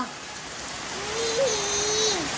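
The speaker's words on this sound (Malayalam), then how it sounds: "ഗ്രേസ് പോയി കഴിഞ്ഞപ്പോൾ തുടങ്ങി മഴ അങ്ങോട്ട് പെരുമഴ" Heavy rain pours down in a steady, dense wash of hiss that swells slightly toward the end, while a voice hums and speaks faintly over it.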